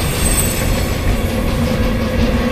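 A train rumbles along with a steady low roar and faint metallic wheel tones, continuous and close throughout.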